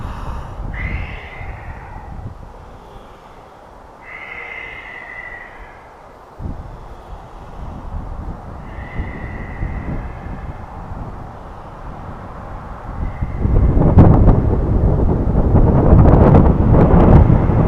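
Wind gusting outdoors straight into the microphone, a steady rumbling buffet that swells much louder and rougher toward the end, with no talk over it.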